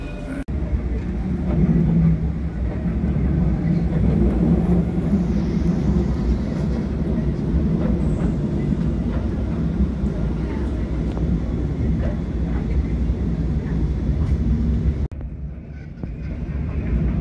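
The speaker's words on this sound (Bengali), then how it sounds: "ট্রেনে উঠে গেলাম।" Continuous rumbling of a Dubai Metro train in motion, a steady low roar with rattling, muffled voices underneath, easing off near the end.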